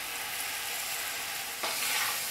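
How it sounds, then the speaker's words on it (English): Onions and leeks sauté in olive oil in a hot pot, giving a steady close hiss of sizzling that grows briefly louder and brighter as the vegetables are stirred near the end. "Stir well until the ingredients are well coated with the oil. And sauté for about 4 minutes until the onions are translucent."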